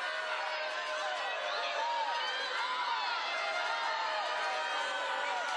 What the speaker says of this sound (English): the crowd is starting to get into this game